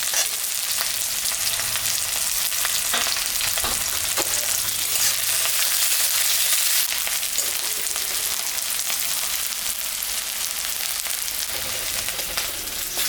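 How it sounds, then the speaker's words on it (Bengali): Onion, green chili, panch phoron and dried red chili fry in hot oil with a steady, loud sizzle. Occasional stirring scrapes sound under it, and no one speaks. "আমি এখন 5 ফোড়ন আর শুকনো লঙ্কা সম্বরা দিলাম। পেঁয়াজটা দিয়ে দিলাম।"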